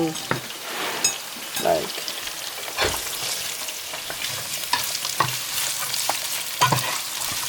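Chopped carrots go into a hot frying pan with oil and are stirred, giving soft sizzling under scraping and clinking utensil sounds while someone talks nearby.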